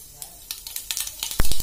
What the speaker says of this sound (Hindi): तो तड़के के लिए तेल गरम कर लिया है। इसमें डालेंगे थोड़ी सी राई,